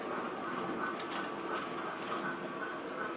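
A model Class 9F locomotive, number 92212, with DCC sound runs on a test track, giving a steady mechanical chuffing and clattering rhythm with a constant hiss, close and even for the whole stretch.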